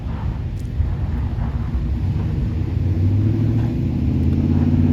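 Lexus GX off-road SUV engine straining as its wheels lose traction, a loud continuous low rumble with rising revving tones building toward the end.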